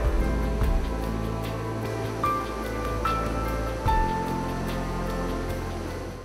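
Water from a forest waterfall in Brahmagiri, Kodagu rushes and roars in a steady, broad wash, with faint low rumbles and a few brief tones over the continuous flow.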